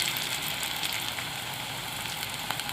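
Potato pakoras fry in hot oil, giving a steady, close, dense sizzle that stays even throughout with no talk.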